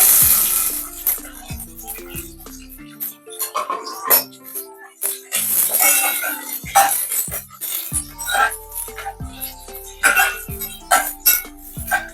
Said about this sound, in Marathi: कांदा टाकते फोडणीला